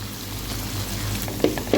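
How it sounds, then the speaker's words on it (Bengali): Ginger, garlic, coconut and nut pastes fry in hot oil with garam masala for an egg korma. A close, steady sizzle is broken by a couple of sharp stirring scrapes near the end. "তেলটা গরম হয়ে গেছে দিয়ে দেব গরম মশলা আদা বাটা রসুন বাটা নারকেল বাটা বাদাম বাটা"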